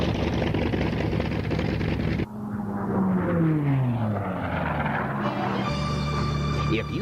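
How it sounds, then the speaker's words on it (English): Giant air racing planes roar past in a loud, continuous engine drone with rising and falling pitch sweeps as each machine flies by, under music. "men push the envelope of their giant air racing machines"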